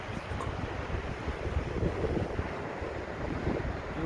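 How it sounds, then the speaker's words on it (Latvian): Sea waves wash and surge along the coast at Mersin on a windy January day, a continuous broad roar with wind buffeting the microphone, no voices. "Jūra viļņojās."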